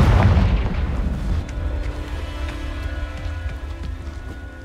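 A Confringo spell blast in the Hogwarts Legacy video game: one heavy booming explosion at the start that fades into a rumbling tail, with faint game sounds continuing behind it.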